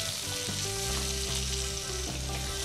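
Sliced onion and dried fenugreek leaves frying in a pan for dhaba-style aloo gobi, a close, steady sizzle with faint stirring under a sustained musical background, and no talking.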